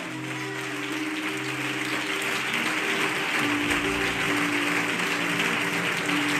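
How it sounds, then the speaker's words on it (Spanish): A church congregation claps together in a dense, sustained wash of applause that swells slightly and carries on without a break. "¡Aplaudan a Dios!"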